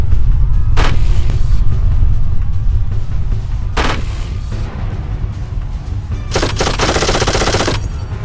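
Rapid automatic gunfire from auto turrets in the Darkest of Days video game, loud sustained bursts with pauses, over a constant heavy low rumble of battle.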